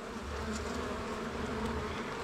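A dense, continuous drone of many honeybees buzzing close by in an opened hive during an inspection, steady and loud throughout.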